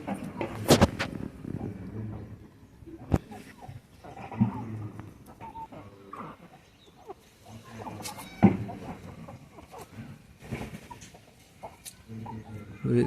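Bhimavaram breed hens clucking intermittently nearby, with sharp squawks and scattered farmyard noise; a person talks faintly in the background.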